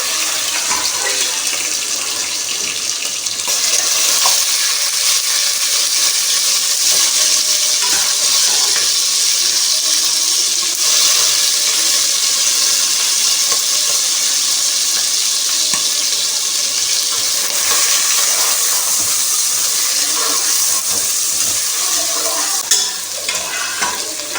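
Beef goes into a pot of browned ginger and garlic and sizzles and fries in a loud, continuous hiss with occasional stirring scrapes, close and unbroken, with no talking.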